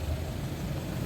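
Road traffic at a standstill during a jam on a hilly route near Argo Nongkojajar, with steady low engine rumble and idling vehicles close by, continuous and fairly even in loudness, no speech.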